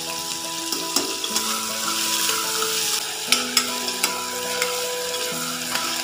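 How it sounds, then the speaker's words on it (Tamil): Mutton curry ingredients sauté in a hot pan, a continuous close sizzle broken by repeated spoon scrapes and taps as they are stirred, with no voices. "நல்ல பொன்னிறம் ஆகிற வரைக்கும் வதக்கணும்"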